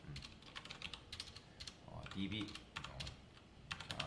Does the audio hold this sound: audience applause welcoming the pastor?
no